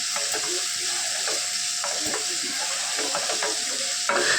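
Sliced onions fry in coconut oil for a Kerala-style clam dish, a close, constant hiss with periodic spatula scrapes and knocks against the pan, no one speaking.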